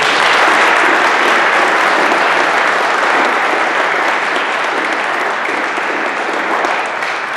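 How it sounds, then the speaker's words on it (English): Dense, loud applause from a conference audience, sustained and even throughout before easing slightly at the very end. "Please give a round of applause."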